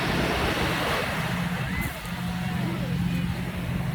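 Sea waves washing at a beach with cottages, a steady roar of surf and wind noise, with a voice speaking briefly over it.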